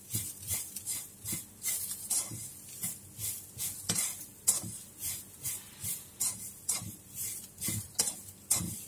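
Coconut being dry-roasted in a pan and stirred steadily, a regular rhythm of close scraping strokes from a utensil against the pan repeating through the whole stretch with a faint sizzle beneath, no voices.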